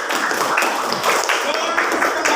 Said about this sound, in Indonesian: beri tepuk tangan buat Bagas